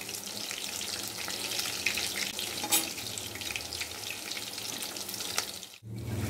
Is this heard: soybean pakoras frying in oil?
yes